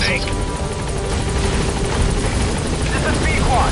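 A support helicopter arrives in a video game, its rotor roar loud and steady throughout, with game voices talking over it.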